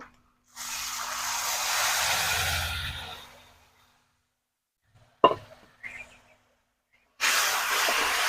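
Water left from boiling kuchi fish is poured into hot spice masala in a pan, giving a loud, broad sizzling hiss that fades over a few seconds, then a few plops and a second burst of hissing.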